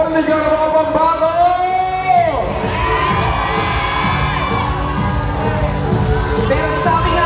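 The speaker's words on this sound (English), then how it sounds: "The louder you cheer, the more confidence you give your candidates" Theatre audience cheering for pageant candidates at the Miss International Queen Philippines coronation, a loud sustained roar of shouts, whoops and high-pitched screams filling the hall.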